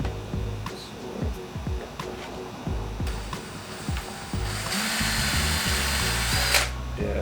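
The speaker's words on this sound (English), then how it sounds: "we're going to try and drill into the back and just put a hinge on" Power drill boring into wood to fit a small hinge on a van composting toilet, heard as repeated short whirring bursts with stops and starts, close and fairly loud throughout.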